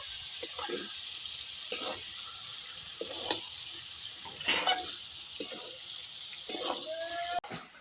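Chicken with slit green chillies and coriander leaves stir-fries in a pan, a steady sizzle broken by several scraping stirs of a spatula, close and moderately loud, with no talking.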